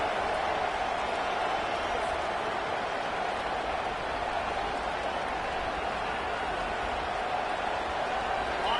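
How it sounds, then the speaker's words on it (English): A home crowd roars at a football game, a steady, dense wall of cheering and noise that holds at full strength without a break. "how nice is it to have the home crowd going absolutely bananas?"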